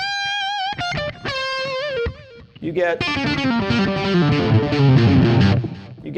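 An electric guitar plays single sustained notes, then dense chords pushed through a distortion effect that thickens and grows louder toward the end, with a brief spoken phrase in the middle.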